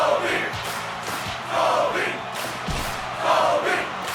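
Hostile wrestling crowd in a house wrestling show, rhythmic chanting swells that rise and fall in repeated waves, loud and dense, with a thump partway through.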